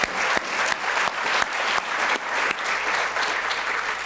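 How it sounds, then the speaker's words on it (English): Applause from the audience at a medical lecture, many people clapping together in a full, sustained wave with slight swells and dips, near and loud, no speech over it. "let's give him another round of applause."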